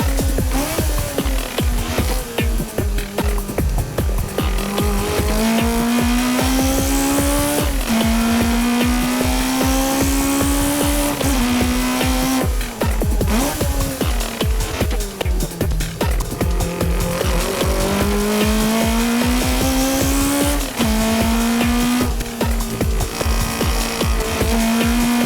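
A race car on a fast time attack lap, its engine revving hard and climbing through gears with repeated shifts and lifts, tires gripping at the limit of traction, loud and close with no talk.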